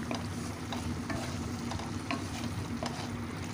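Minced meat and chickpeas (keema chana masala) being stirred in an oil-released frying pan, a steady close sizzle with repeated scraping strokes of the spoon every half second or so, no voices.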